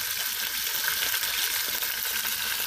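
A beef pot roast sears in a hot pan on an electric stove, with a loud, continuous hiss and crackle and no talking.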